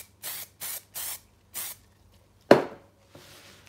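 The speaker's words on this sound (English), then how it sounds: "let's spray fix" An aerosol can of fixative sprays onto a pastel drawing in four short, even hissing bursts, followed by a sharp close knock and a fainter final hiss, close by and quiet with no speech.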